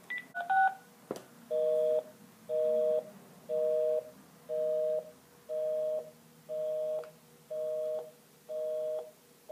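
A home landline dials an international call to Sweden: quick keypad tones at the start, then a steady series of about eight evenly spaced ringback tone bursts, clear and alone.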